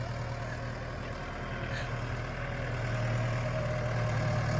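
A heavy Yanmar 72-horsepower tractor engine idles with a steady low chugging rumble, continuous and fairly close, growing slightly louder toward the end.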